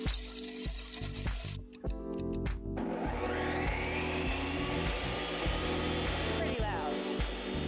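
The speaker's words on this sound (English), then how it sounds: "we can spin up the vanilla soft serve right now. Let's see how loud this is gonna get" A Ninja Swirl soft serve ice cream machine spins vanilla soft serve with a loud, steady mechanical whir and hiss that rises after a brief start and runs continuously, with a voice talking over it.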